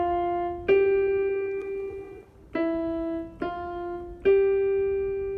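Right hand on piano playing a phrase of Frere Jacques, five clear single notes in a slow, even line, each struck and left to ring, with no voice.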